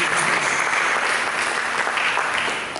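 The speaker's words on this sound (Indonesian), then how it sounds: "Mari kita berikan tepuk tangan bagi Tuhan Yesus" Church congregation applauding together during a sermon, a dense, steady wash of clapping that holds evenly throughout and fades slightly at the end.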